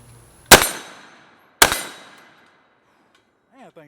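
Two loud, sharp gunshots from a .50 Beowulf J5 Tactical upper rifle, about a second apart, each with a long decaying echo, followed by a brief voice at the end.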